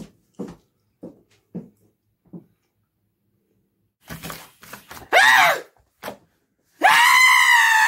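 A woman screams in short loud bursts near the end, after a run of soft, sparse thumps and groans, with a longer sustained high scream closing the sequence.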